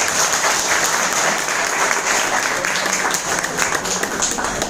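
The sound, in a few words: audience applause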